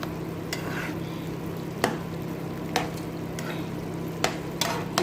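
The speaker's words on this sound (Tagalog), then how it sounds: "Kumukulo-kulo na siya." Chicken bubbling gently in a pan over a small flame, a soft continuous sizzle with a low hum beneath it and a few sharp clicks of a utensil against the pan.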